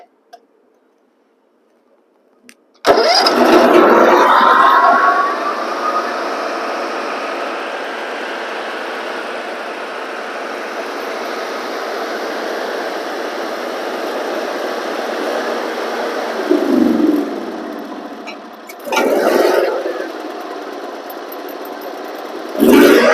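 An 18 horsepower Briggs & Stratton Vanguard engine with diesel in its gasoline, running on choke: it cranks and catches, then holds a steady close idle with a couple of brief revs near the end.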